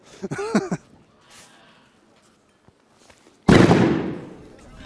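Brief voices, then quiet, before a single loud, sharp bang from a carbide cannon bursts out close by at a New Year's Eve carbide shooting in Zeeland, Netherlands, trailing off into a rumbling echo.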